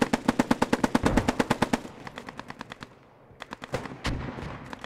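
Rapid machine gun fire from an MG placement in a video game, a fast burst of loud regular shots, then sparser scattered gunfire with a few more isolated bursts near the end.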